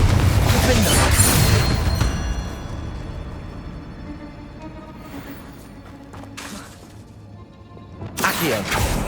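Confringo spell explosions in Hogwarts Legacy: heavy booming blasts open the clip, quieter rumbling and crackling impacts follow, and another loud burst comes near the end, with spell-casting voices heard in between.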